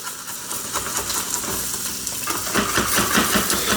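An egg cooks in a new nonstick skillet with no oil, sending up a continuous close hiss and sizzle with faint scraping, loud and steady throughout.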